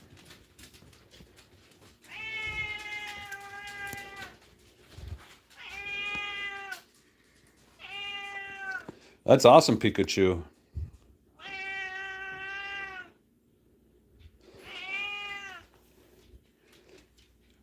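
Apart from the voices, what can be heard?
cat meowing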